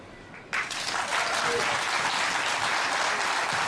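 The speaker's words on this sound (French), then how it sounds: "on applaudit bien fort Guy" An audience at a 50th-anniversary regional gathering breaks into steady, dense applause after a brief lull, holding full and loud to the end with no break.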